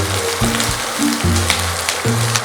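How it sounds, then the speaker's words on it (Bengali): A medium capsicum cut into pieces is lightly fried in a pan, with a close, continuous sizzle and low scraping tones from stirring. "হালকা করে একটু ভেজে নেব।"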